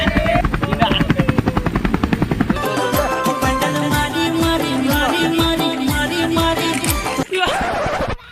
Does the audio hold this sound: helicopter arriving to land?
yes